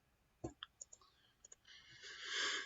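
A computer mouse clicking while an Excel chart is edited, a few sharp, quiet clicks spaced irregularly, then a rising hiss of background noise at the end.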